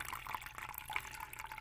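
A short, faint burst of pouring-water sound is made by a voice imitating it with the mouth, a bubbly trickle lasting under two seconds.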